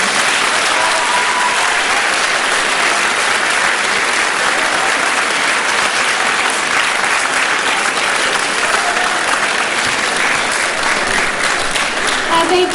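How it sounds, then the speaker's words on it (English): An audience at a school event applauds its speakers with loud, continuous clapping that holds evenly throughout without a break. "give a Spartan round of applause for our speakers today"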